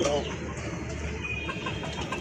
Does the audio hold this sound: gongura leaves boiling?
no